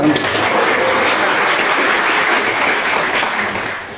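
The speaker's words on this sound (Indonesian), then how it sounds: "Tepuk tangan dulu." A seminar audience at a business opportunity presentation breaks into applause, a loud, dense, even burst of many hands clapping that lasts about four seconds and fades slightly at the end, with no talking over it.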